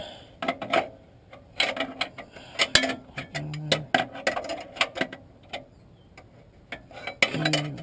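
A wrench ratchets as it snugs an upstream oxygen sensor with a crush washer into the left exhaust bank of a 1999 Nissan Maxima, giving rapid, uneven metallic clicks and ticks close by.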